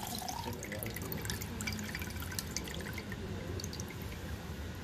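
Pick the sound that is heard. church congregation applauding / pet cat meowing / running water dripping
running water dripping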